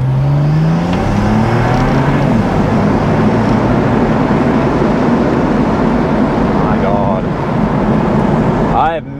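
BMW E92 335i fitted with a swapped N54 engine accelerating hard in second gear, a loud, steady engine roar climbing in pitch as it revs and then easing off near the end.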